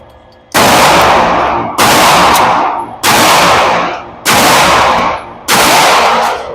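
Five loud, close pistol shots from Fusion Firearm XP Pro bronze PVD pistols ring out at a steady pace about a second apart, each a sharp crack with a short decaying tail.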